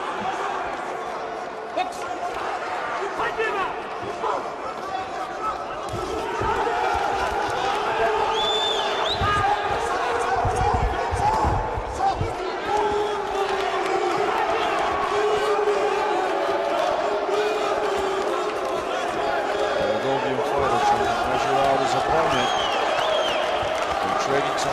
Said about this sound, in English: As you can hear, the crowd going wild here.